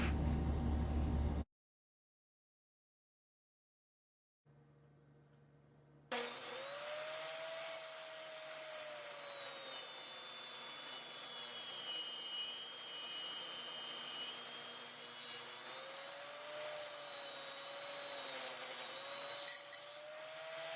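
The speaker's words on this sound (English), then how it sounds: "So it's gonna shave about 1/2 inch from the outer rim." A cutting tool shaves about half an inch off the outer rim of a 6.5-inch turf wheel, starting with a brief clunk, going silent, then settling into a steady, loud whining grind with a wavering high-pitched squeal that runs on without talk.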